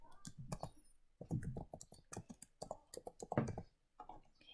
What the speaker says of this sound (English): So I'm gonna type Wonder